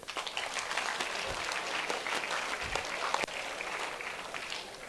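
A classroom audience claps for a student in a dense, steady burst of many hands lasting several seconds, moderately loud and fairly close, with no speech over it.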